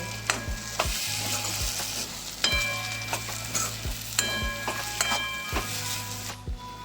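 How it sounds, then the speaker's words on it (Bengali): Ground dried loitta fish with onion and spices is stirred in a pan for a shrimp-paste-style bharta, giving a low steady sizzle broken by regular sharp scrapes and knocks of the spoon against the pan, close and without speech. "মাছটা আমার দেওয়া হয়ে গেছে এবার আমি ভালো করে নেড়ে দেবো"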